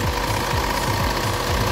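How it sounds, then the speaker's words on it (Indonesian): A 2015 Isuzu MU-X diesel engine idles with the hood open, heard up close as a loud, rough, rapid knocking clatter over a steady mechanical hum. "Oke, suara diesel masih normal ya."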